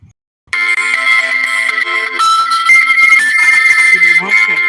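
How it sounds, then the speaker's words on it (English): An incoming-call phone ringtone plays loud and close, a bright looping electronic melody with sustained tones that starts abruptly after a moment of silence and continues without pause. "I'm sorry, I got a phone call."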